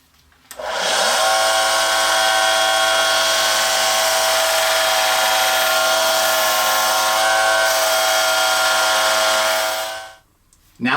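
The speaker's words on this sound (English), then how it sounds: "the belt sander to sand all of these edges flat and flush so that the outside shell is flush with the inner body" A belt sander runs continuously while sanding the edges of a wooden whistle flat, a loud steady whine with strong harmonic tones that starts abruptly, holds for about nine seconds and then cuts off.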